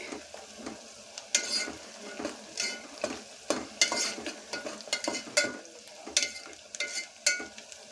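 Onions for chicken curry frying in a pan while being stirred, a steady sizzle broken by repeated scraping stir strokes close by, with no talk.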